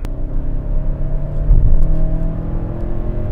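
A new Hyundai Santa Fe's engine revs up during an overtaking acceleration, heard from inside the cabin as a steady, building low rumble and whir with no talking.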